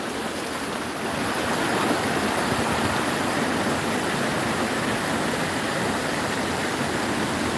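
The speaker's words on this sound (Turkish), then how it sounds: "Bu şekilde kazan oluşturmuş bir şelale burası arkadaşlar." A waterfall pours into the rock basin it has carved, a constant loud broadband roar of rushing water heard alone and close, steady throughout.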